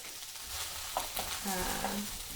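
Vegetables coated in oil are stir-fried in a pan before broccoli goes in, a close, moderately quiet crackling sizzle with a couple of scraping stirs and no talk.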